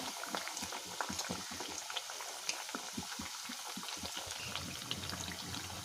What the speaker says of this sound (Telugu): వడల్ని బాగా డీప్ ఫ్రై అయినాయండి